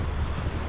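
Wind and surf along the Atlantic Ocean coast, a steady broadband rush of waves and wind buffeting the microphone, with no voices.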